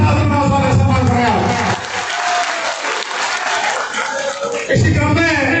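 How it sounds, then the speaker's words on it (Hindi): A large crowd at a political rally claps loudly. The applause eases midway and then surges back, with some cheering and a voice over a loudspeaker. "जोरदार तालियों के साथ उनका स्वागत सम्मान कराया"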